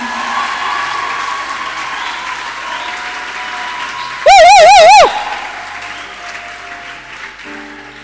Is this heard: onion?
no